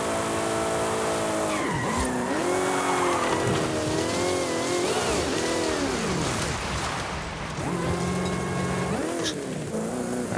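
A car in Forza Horizon 5 skids under handbrake, its tires squealing in long, bending screeches over a loud engine whine that revs, dips and climbs again, steady and close throughout.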